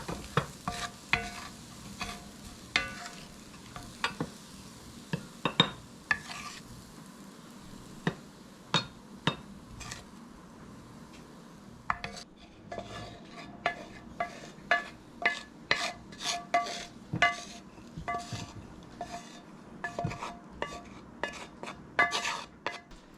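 Food browning in a frying pan for a grain-free lunch, with steady sizzling under frequent scraping and clinking as a utensil stirs and scoops it out into a bowl, close and fairly quiet.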